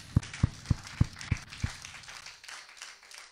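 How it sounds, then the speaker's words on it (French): A church congregation claps in praise of God: six strong, evenly spaced beats ring out in a quick steady rhythm, then give way to softer, scattered clapping that fades. "Nous applaudissons le Seigneur."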